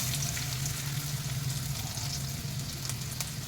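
Stuffed okra with spiced filling frying in about two tablespoons of oil in a kadhai, a steady close sizzle and crackle throughout with no talking.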